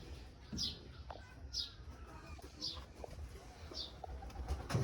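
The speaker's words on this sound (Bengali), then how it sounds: "দেখতেই পাচ্ছেন আমার কবুতরগুলো অনেকগুলো আছে" Pigeons coo softly at regular intervals, about four calls spaced roughly a second apart, over a low background hum.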